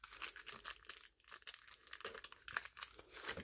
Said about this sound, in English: So let's just open up this pack.